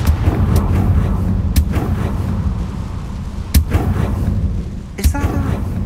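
Confringo fire spell blasts in Hogwarts Legacy on PS5, loud booming impacts over a continuous roaring, rumbling game background with a few sharp cracks, no talk.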